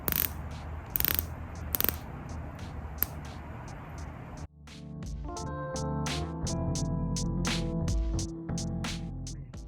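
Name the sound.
Tudor Black Bay 54 60-click unidirectional steel bezel turning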